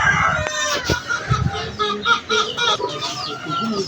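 Chickens clucking repeatedly and close by, with a short crow-like call among the busy, uneven bursts of hen chatter.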